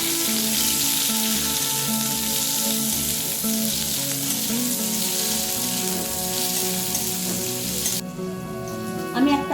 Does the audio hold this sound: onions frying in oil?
yes